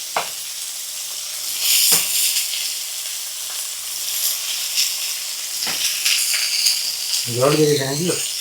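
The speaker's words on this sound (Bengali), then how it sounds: "আগে উচ্ছেটাকে ভালো করে একটু ভেজে নেব" Bitter gourd fries in a pan with a steady, close hiss and sizzle, broken by a few sharp utensil clicks, while a voice speaks briefly near the end.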